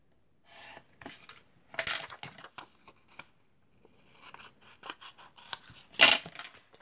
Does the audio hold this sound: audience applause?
no